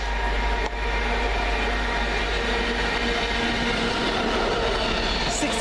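London Midland class 350 unit 350113 on a Milton Keynes Central to London Euston service passing at Cheddington, a steady, loud rumble of rolling wheels and motors held throughout without a break.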